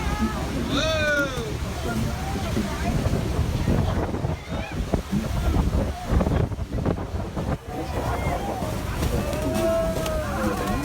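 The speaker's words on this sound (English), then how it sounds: "It feel like we about to go under the damn waterfall." The Niagara Falls waterfall roars near a tour boat, a continuous loud wash of rushing water and spray, with excited voices talking and shouting over it.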